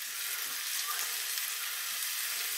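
Steady, close sizzling of onion frying in hot oil, a continuous crackling hiss with no talking.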